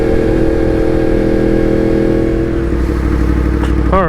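A Yamaha MT-10 motorcycle's exhaust drones loud and steady on a windy freeway, a sustained engine rumble with wind roar throughout and a brief pitch warble near the end.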